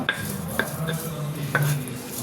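A stone pestle (nora) crushing ingredients on a grinding stone, giving a few sharp knocks at irregular intervals over a low scraping background.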